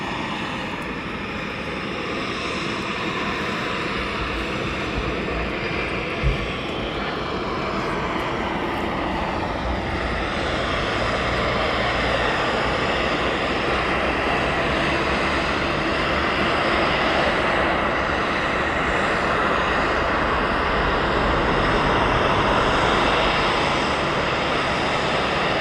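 An aircraft auxiliary power unit runs on the apron at East Midlands Airport, a loud sustained turbine roar and whine filling the air steadily throughout, with no voices over it.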